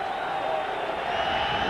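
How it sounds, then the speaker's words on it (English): Steady roar of a sold-out stadium crowd at a 1994 NFL game between the Green Bay Packers and New England Patriots, a dense continuous murmur and cheer filling the whole moment without pause. "The symphony of a sold-out crowd is what greets Brett Favre"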